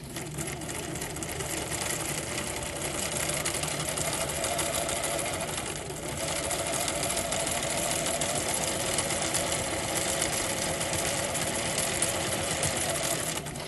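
A sewing machine stitches fabric in free-motion work, running steadily and continuously at close range with an even mechanical hum and rapid needle chatter, with only a brief dip in pace partway through.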